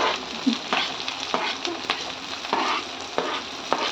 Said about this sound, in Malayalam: അതിന് ശേഷം ഈ ഉള്ളിയും ഈ മുളകും ഇങ്ങനെ അതിലേക്ക് ഇടുക.